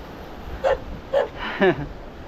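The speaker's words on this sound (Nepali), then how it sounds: "यो कुकुर चाहिँ गाठ राखेको रहेछ। आउने चोर्ने मान्छेहरूलाई भुक्यो भनेर।" A dog kept at a house in a remote Sikkim village barks three times at moderate distance, sharp separate barks with a short gap between each, over quiet outdoor background.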